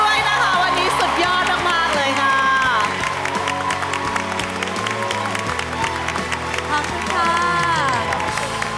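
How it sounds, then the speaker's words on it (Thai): A studio audience at a televised singing competition gives loud, sustained applause with cheers and whoops, while music plays underneath throughout. "ขอเสียงปรบมือดังๆให้กับคุณปอม"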